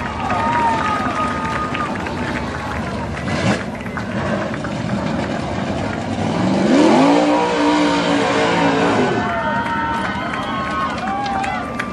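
Modified race cars roar around an oval racetrack at the Jones Fleischer Memorial, engines rising and falling as the pack passes close by, with a crowd murmur and a steady loud drone throughout.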